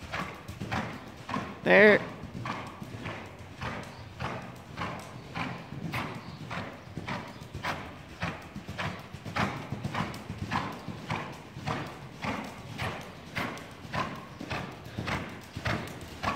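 A horse trots in a steady, even clip-clop of hooves for a long stretch, with a brief neigh early on and a rider's instructor talking now and then over the rhythm.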